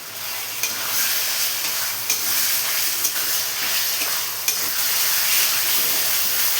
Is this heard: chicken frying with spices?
yes